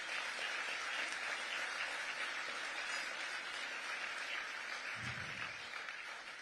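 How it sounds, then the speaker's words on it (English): At an awards gala, a large seated audience gives a steady, fairly distant round of applause for the Ukrainian people, an even wash of clapping from start to finish. "And please applaud them."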